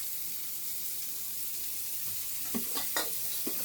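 Oil-soaked, deep-fried pieces sizzle steadily in a pan after a little more oil is added, with a few scraping stirs near the end and no talking.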